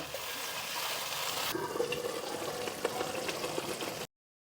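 Milk is poured into simmering onion paste, and a bubbling, gurgling wash of liquid builds up before cutting off abruptly.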